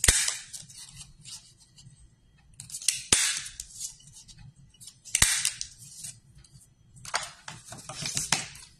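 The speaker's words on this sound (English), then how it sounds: "I'll just go ahead and cut out a few of these." Scissors cutting out paper pieces for a scrapbook treat bag album, crisp close snips in several bursts of rapid strokes separated by short pauses.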